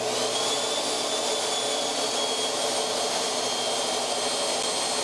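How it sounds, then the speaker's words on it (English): A CNC machine spindle runs steadily, a loud continuous high whine with broadband machine noise throughout, no talk. "So what I'm gonna do is turn the spindle on."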